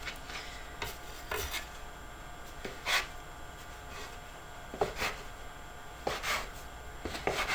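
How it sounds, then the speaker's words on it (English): A bench knife cuts and scrapes through Parmesan flatbread cracker dough on a work surface, giving scattered soft scraping rasps and light knocks at irregular intervals, quiet and close, with no voices. "I'm just going to take my bench knife and section it into workable pieces"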